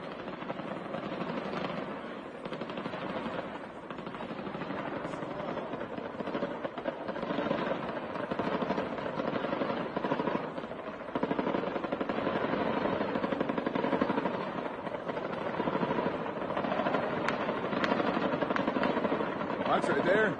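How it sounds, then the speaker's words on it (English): Rapid bursts of gunfire crackle continuously alongside heavier booms, a chaotic firefight between U.S. soldiers and Taliban forces, recorded from a soldier's point of view, running at a steady loud level for the whole stretch. "hear the really intense firefight going in the background"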